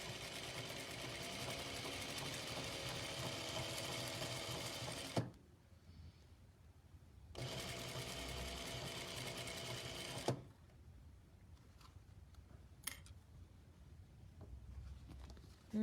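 A sewing machine stitches a quarter-inch seam through quilt fabric in two steady bursts of close, even motor whir, separated by pauses with faint handling noise.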